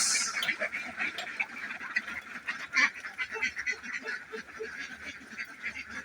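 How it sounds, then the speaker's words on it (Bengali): Laying ducks quack loudly and continuously as they crowd out of their duck house, a dense, overlapping chorus of honking calls that stays close and busy throughout with no talk. "আমি হাঁসের ঘরে যাব, হাঁসকে ছাড়তে হবে।"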